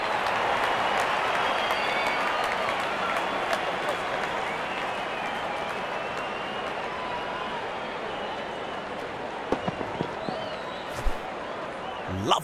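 A big crowd at a Pakistan vs India cricket Test in a London stadium keeps up a steady, dense wash of applause and cheering, with a few sharper claps and shouts near the end.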